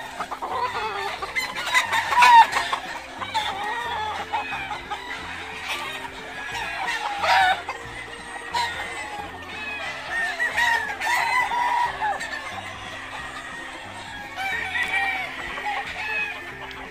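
Several chickens cluck continuously close by while roosters crow at intervals, with a low rhythmic hum underneath.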